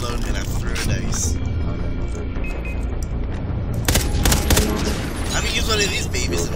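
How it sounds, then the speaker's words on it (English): Shotgun fire in the video game Far Cry Blood Dragon, loud bursts of blasts rising over a dense, constant wash of game action and music, with a cluster of sharp reports toward the end. "I love a shotgun."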